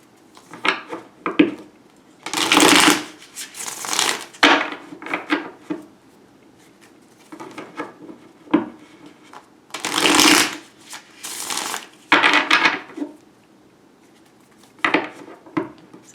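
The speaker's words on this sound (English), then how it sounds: "I'm going to start the shuffling." Wild Unknown Tarot cards being shuffled by hand in repeated bursts of riffling and sliding, close and fairly loud, with short pauses between bouts and no talk.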